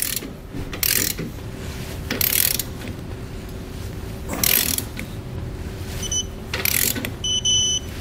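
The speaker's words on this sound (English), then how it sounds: "So now we'll torque our hardware to the specifications found in your Comfort Ride instructions." A ratchet wrench tightens U-bolt nuts on a Roadmaster Comfort Ride shock absorber mount on a 2021 Coachmen Apex Ultra-Lite travel trailer, with repeated short runs of rapid metallic clicking, close and clear, separated by brief pauses.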